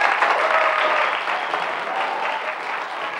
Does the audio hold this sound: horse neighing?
no